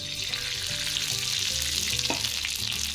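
Oil sizzling in a heated pan on the stove before chicken goes in for a Goan chicken fry, a steady, close hiss with low background hum and faint kitchen knocks.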